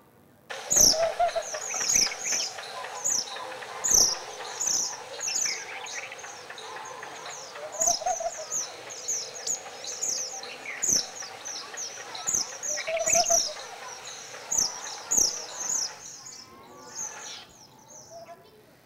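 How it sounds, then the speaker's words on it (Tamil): A laughing dove's call among repeated bright bird chirps, with a soft insect buzz and a voice speaking in the background, a long outdoor recording that stays fairly faint. "இது வந்து லாஃபிங் டவுன்னு சொல்கிறது."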